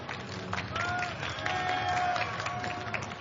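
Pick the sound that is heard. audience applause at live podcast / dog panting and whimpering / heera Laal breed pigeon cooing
audience applause at live podcast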